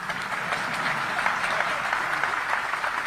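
An audience at the launch of the CRCS digital portal claps in a steady, moderately loud wash of applause from a roomful of people, with no speech over it.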